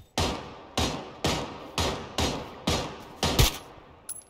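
Gunfire in the battle-royale video game PUBG: seven loud, evenly spaced shots, each sharp crack trailing off briefly, firing in a steady rhythm with no voices.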